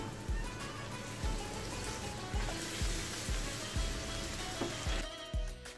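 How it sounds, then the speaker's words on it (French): Chicken pieces for a tajine fry over low heat in a steady, soft sizzle, broken by a run of dull, evenly spaced knocks. "nous allons faire frire nos morceaux de poulet à feu doux"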